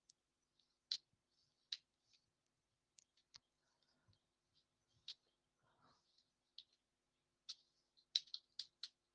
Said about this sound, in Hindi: फिर से अल्ट दबा के एंटर मार देता हूँ